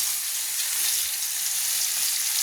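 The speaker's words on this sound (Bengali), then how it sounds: "আরেক পিঠ আমি ভেজে নিচ্ছি।" Rohu fish fries in hot oil, a steady, dense, close sizzle with constant crackling hiss and no pauses.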